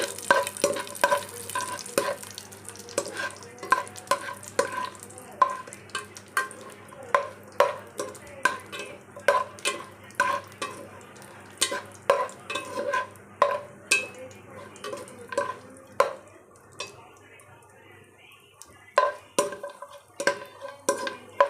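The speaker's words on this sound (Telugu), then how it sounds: "2 spoons నెయ్యి వేసుకొని దానిలో డ్రై ఫ్రూట్స్ మొత్తం రోస్ట్ చేసుకోవాలి" Dry fruits roast in two spoons of ghee in a pan for bellam ravva laddu, with a steady soft sizzle under frequent sharp scraping and clinking of a spoon stirring against the metal, no talking.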